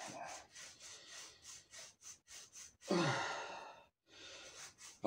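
A worn 1993 Honda CR125R motocross shock absorber being scraped out by hand, a string of short rhythmic rasping strokes followed by one longer, harder scrape, close up with no talking.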